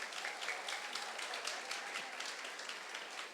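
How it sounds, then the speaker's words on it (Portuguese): A church congregation bursts into sustained applause, a dense wash of many hands clapping at moderate distance, steady throughout without talk. "Salva de palmas para a geração X."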